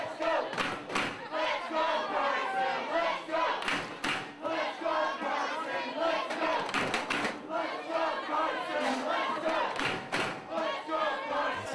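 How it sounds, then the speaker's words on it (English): A loud wrestling crowd at an NWA Houston championship match cheers and roars steadily, with scattered yells and thumps rising above the dense, continuous noise of the arena. "This NWA Houston crowd firmly behind Carson."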